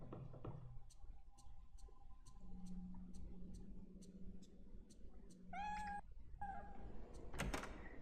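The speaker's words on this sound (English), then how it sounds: "the cat's around somewhere meowing at me for some reason" A cat meows in the Project Zero 3 video game, a few drawn-out meows heard against a faint ticking clock and low ambient hum, with a door-like thud near the end.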